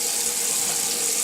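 Cold water runs from a kitchen tap into a sink for boiling eggs, a steady, close hiss of flowing water with no pauses.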